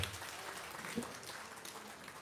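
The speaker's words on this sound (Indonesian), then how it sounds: "Kita tepuk tangan buat Kang Iip dan kita semua." A gathering at an Islamic talk session gives faint, steady applause, scattered hand claps blending into a soft wash throughout.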